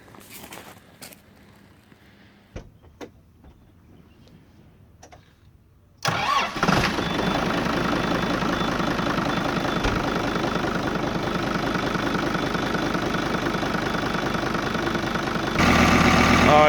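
A Kubota tractor that had caught fire starts after several seconds of near silence with faint clicks, then idles loudly and steadily at close range for the rest of the clip, growing slightly louder near the end.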